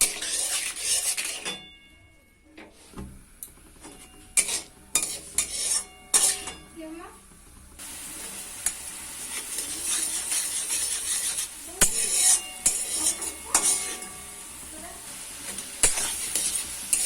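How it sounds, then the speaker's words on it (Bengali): A tempering for besan dhokla bubbling and being stirred in a pan, with metal spoon knocks and scrapes against the pan, a quieter stretch, then a renewed steady sizzle with intermittent clinks. "এটাকে আমি ভালো করে একটু ফুটিয়ে নিচ্ছি"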